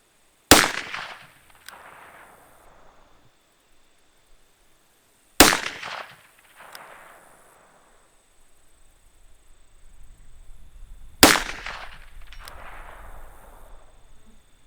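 Pistol shots from Taurus handguns, three loud sharp reports spaced about five seconds apart, each followed by a brief ringing decay and faint echo in an outdoor setting.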